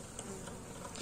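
Bees buzzing steadily as they are shaken off a frame into a box, a close, continuous insect drone with a few brief swells and no talking.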